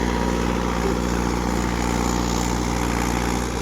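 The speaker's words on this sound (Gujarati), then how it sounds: "જો ચાલે જ છે ડીશ।" Steady, loud engine drone of a Mahindra Yuvo tractor working a disc harrow across a field, heard up close as a continuous low rumble with no talking.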